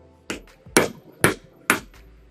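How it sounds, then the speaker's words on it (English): Four sharp metallic hammer blows drive a punch through 18 karat yellow gold to cut out a small circle, evenly spaced, close and crisp, with brief ringing decays. "and then I'm going to hammer."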